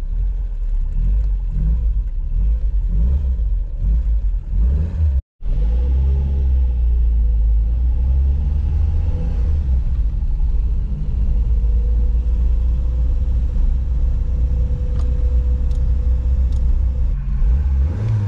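A 1977 Renault 20 TL reversing, its engine rumbling loud and close with a steady mid-pitched drone, a brief sharp cutout, then a lower steady running note.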